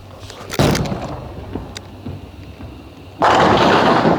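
A Storm Phaze AI bowling ball with a 5.5 inch pin is released with a thud and rumbles down the lane, then crashes loudly into the pins near the end, close and without talking.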